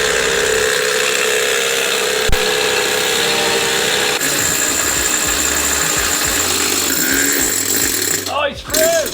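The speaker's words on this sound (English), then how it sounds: "That took some drilling, didn't it?" Heavy drilling through thick layered steel plate, a loud steady grinding drone running continuously with a sharp knock partway through and a voice heard briefly near the end.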